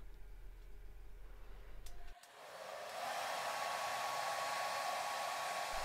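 A hair dryer blowing on wet hair, a close steady whooshing hum that cuts out briefly, then restarts and settles into a louder, brighter rush, with no voices.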